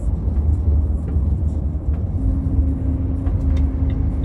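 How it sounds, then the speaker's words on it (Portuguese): A heavy loaded truck drives along the BR-101 highway, its cab shaking and swaying as a constant loud low rumble of engine and road noise fills the space, with a faint steady whine joining midway. "fica tremendo demais, balançando o caminhão."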